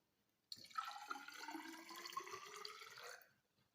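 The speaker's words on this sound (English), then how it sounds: "So we are going to pour this water" Water is poured into a measuring container during a displacement density measurement, a steady splashing stream that starts suddenly, rises slightly in pitch as the vessel fills, then tapers off after about three seconds.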